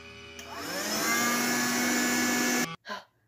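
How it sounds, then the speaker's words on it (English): A loud, steady electronic suction whine from the Poltergust vacuum in the video game Luigi's Mansion runs for over two seconds, rising in pitch as it pulls in a ghost, then cuts off sharply into a short burst. "I need my vacuum for this."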